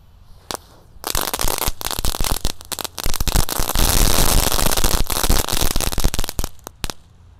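A string of firecrackers set off for New Year goes off in a dense, rapid crackle of loud pops, building into a continuous roar before thinning to scattered bangs.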